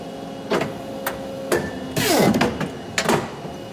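A paper cutter works through 18pt business card stock, with several separate sharp clacks and one longer scraping, sliding stroke, each close and distinct over a steady low machine hum.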